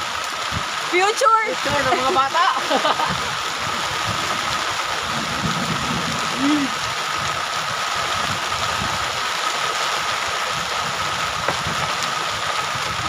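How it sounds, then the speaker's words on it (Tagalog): Heavy rain pours steadily in Masbate, a continuous broadband wash that runs through the whole stretch, with people talking briefly over it near the start. "Ang lakas naman ng ulan mga Lods."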